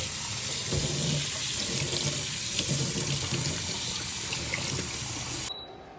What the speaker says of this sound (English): I have 1 1/2 cups of dried red lentils here, and I'm just going to rinse them really thoroughly